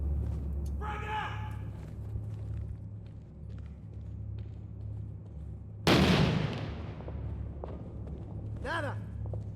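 A frag grenade blast in the Six Days in Fallujah video game booms suddenly and loudly midway, its crack decaying quickly over a low engine-like hum, with voices talking before and after.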